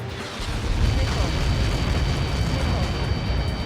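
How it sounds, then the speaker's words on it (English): A huge explosion rumbles in the air-combat game Ace Combat 7, a sustained deep roaring blast that rolls on steadily and loudly, with a faint steady tone running through it. "How many got caught in that explosion?"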